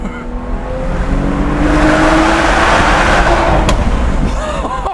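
BMW 435i in sport mode accelerating hard through a tunnel, a loud, sustained engine roar that builds steadily and echoes off the walls for several seconds, with a brief voice near the end.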